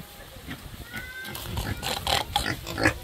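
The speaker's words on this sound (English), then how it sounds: "So guys, you have some pigs there." Pigs in a Ugandan village grunting and oinking close by, several short squeals and grunts building in loudness over faint background noise.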